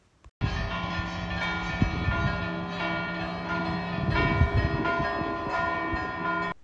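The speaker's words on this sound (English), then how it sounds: "the bells on the clock tower of the neighbouring building, the Cathedral of St. Agatha," Large church bells of the Cathedral of St. Agatha's clock tower in Catania, Italy, ring out loudly and continuously at midday, their overlapping tolls humming and ringing together with a rich, sustained resonance.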